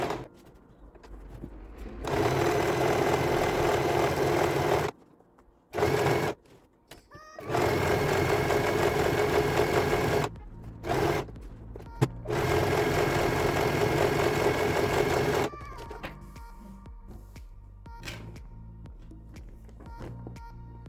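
A sewing machine stitches strips for a patchwork pillow in bursts, a steady mechanical whir cut by short pauses, close and fairly quiet, stopping near the end as faint handling noises follow.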